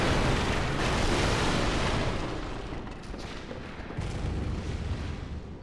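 Gunfire and booming shots hammer at the player in the Bloodborne video game, a loud, dense barrage of blasts and rumble that slowly eases off.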